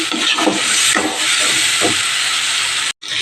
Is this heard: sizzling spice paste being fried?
yes